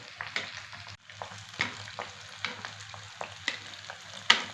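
Small kalathappam frying in a pan of oil, a soft steady sizzle with intermittent louder crackles and spatters as oil is sprinkled over, close and moderately quiet.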